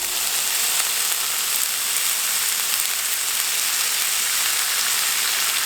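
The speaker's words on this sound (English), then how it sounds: "Listen for the sizzle." Julienne-cut potatoes frying in hot oil, a dense, even sizzle and crackle that holds steady and close throughout with no voices.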